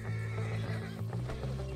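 A horse whinnies in the video game Red Dead Redemption 2, one long, loud, wavering neigh filling the moment, close and alone without talk.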